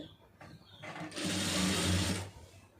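A sewing machine runs a small, fine stitch through lining fabric: a soft start, then a steady, close whirring run of stitching that holds for over a second before easing off.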